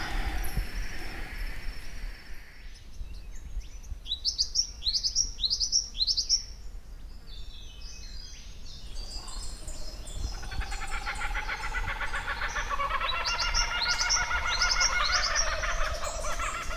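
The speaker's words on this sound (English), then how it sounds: "Hearing these birds singing in the background tells me a story" Birds sing in Kalang Valley forest: bursts of quick, bright chirps and twittering trills over a low background hum, quiet at first and then growing denser and more layered toward the end.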